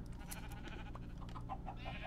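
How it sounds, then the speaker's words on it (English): Sheep in a blocky survival video game give a few short bleats over a steady droning background of game ambience and music, with no speech. "Come here, black sheep."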